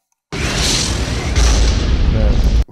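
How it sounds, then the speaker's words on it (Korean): A designed sound effect: a rushing whoosh of something flying in sweeps in, then a deep booming blast rumbles loudly for about two seconds and stops suddenly. "휙 날라와서 쾅 터지는 소리랑 이렇게 두 개가 같이 합쳐져 있습니다."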